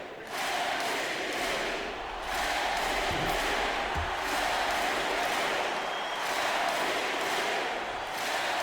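A virtual arena crowd roars through an NBA 2K25 playoff basketball game, conference semifinal Game 1 against Miami, as a steady, loud, dense wash of cheering that swells and dips without a break.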